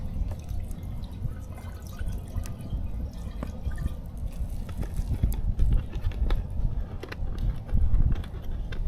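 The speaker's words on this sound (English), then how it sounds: "Put a little bit of water in there." Water pours and splashes into a cooking pot at a cold-weather tent campsite, a steady close trickling with dripping and light clatter throughout.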